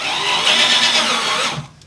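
Power drill driving a matte black screw into wood, a steady high whirring run for about a second and a half close by, then cutting off abruptly.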